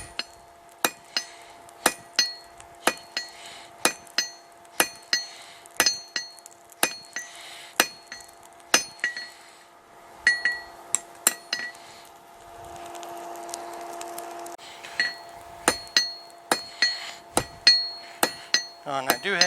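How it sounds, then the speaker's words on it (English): Hammer blows ring out on hot steel being forged into a square taper for a fire poker, a steady run of sharp metallic clinks fairly close, pausing briefly before the rhythm resumes. "Start forging it into a square, that way I can start doing a nice taper."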